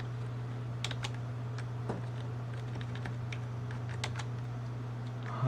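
Someone types on an old computer keyboard being tried out for a Windows 98 build, irregular clicky keystrokes in quick bursts over a steady electrical hum, close by, with no talking.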